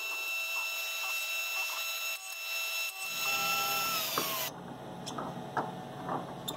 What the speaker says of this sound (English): here again is the final finishing pass, removing the last 2/100 of an inch